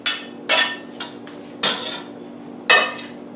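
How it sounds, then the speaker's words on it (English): Butter and sautéed vegetables are stirred slowly into cubed toast stuffing for Thanksgiving, with about half a dozen close utensil clatters and scrapes against the bowl at uneven intervals and no voices. "So this I'm going to mix in really slow because I just introduced wet to bread or toast"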